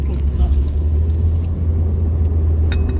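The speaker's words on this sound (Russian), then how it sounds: "сейчас мы тут по кочкам едем" Car driving over a bumpy road, a constant low rumble of engine and tyres with occasional faint knocks and rattles from inside the cabin.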